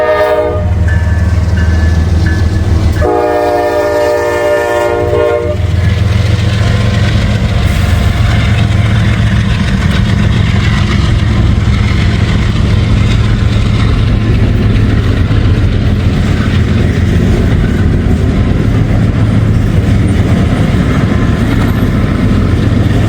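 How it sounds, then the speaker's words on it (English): A daily train from Chicago to Cincinnati passes close by, a loud continuous rumble of engine and wagons with a brief sustained horn blast early on. "This is a daily train coming from Chicago"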